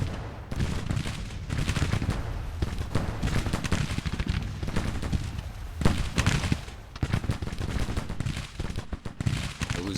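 Dense, continuous volleys of rifle fire and artillery booms in a GT:CW Union American Civil War battle, overlapping shots rattling steadily with no pause, loud and close.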